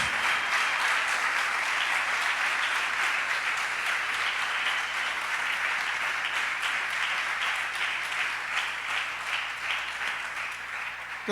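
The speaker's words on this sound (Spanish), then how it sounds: "Denle un aplauso fuerte" Sustained applause from a large congregation at a church service, steady and loud throughout with dense overlapping claps and a low hum underneath.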